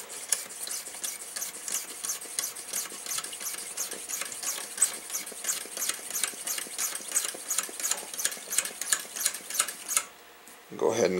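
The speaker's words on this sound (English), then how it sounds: "let's give it 30 pumps just for the video" A hand pump on a Coleman fuel tank is worked in a quick, even rhythm of about thirty squeaky, airy strokes, close and fairly quiet, ending with a short pause and a louder clunk.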